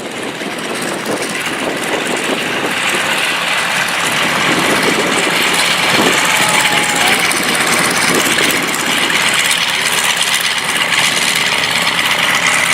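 Vintage US Army Air Corps basic trainer aircraft running at a rally in Essex, a steady loud engine drone with broad noise, continuous and close throughout.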